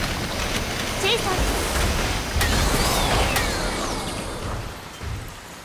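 Heavy rain in the video game Synduality hisses as a steady broadband roar, with faint mechanical tones and occasional sharp ticks mixed in, fading slightly near the end.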